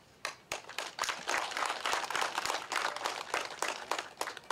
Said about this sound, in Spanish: pido brindemos un fuerte aplauso